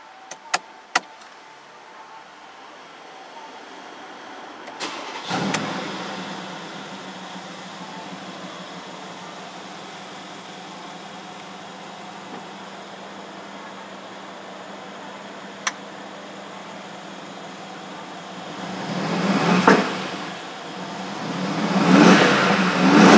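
A 2015 Mercedes-Benz G63 AMG 6x6 starts with a sharp crank and catch, then settles into a steady idle, with a couple of throttle blips building near the end.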